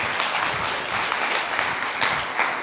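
A church congregation applauds for the Lord during a Spanish-language sermon, a steady wash of dense clapping that holds at an even level throughout, with no voices rising above it.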